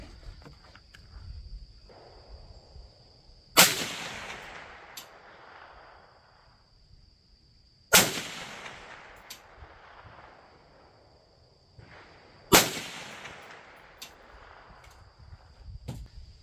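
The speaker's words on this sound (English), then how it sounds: "Take these 7 shots all at that ear and see what happens." Three loud rifle shots, fired at a 200 yard target through a red dot sight and magnifier, crack outdoors several seconds apart, each rolling away in a long echoing tail over faint insect chirping.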